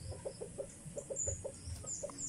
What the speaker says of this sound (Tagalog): Ayan lang yung manukan ko.